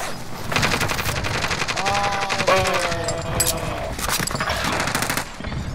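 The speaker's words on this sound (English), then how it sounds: "There's two more players shooting in." Rapid automatic gunfire rattles in long bursts from players shooting in the Warzone video game, loud and close, with a few shorter shots mixed in and a voice heard over it.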